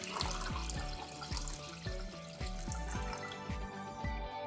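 Water pours steadily from a vessel into a cooking pot, a continuous splashing stream with a few pulsing knocks, close and fairly loud with no voices over it.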